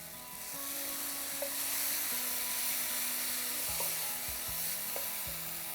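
Tomatoes soften in a hot pan with a soft, continuous sizzle and hiss, faint and steady, broken by a few small pops and low clinks of a utensil against the pan.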